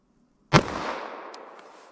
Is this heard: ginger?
no